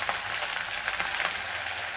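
Small shallots frying in hot oil with mustard seeds and urad dal, giving a loud, steady, dense sizzle that holds evenly throughout with no talk.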